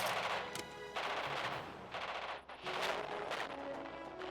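Dense gunfire and machine-gun bursts from a WWII-style strategy battle in Radio General, loud and continuous with brief gaps, rattling fusillades dominating throughout.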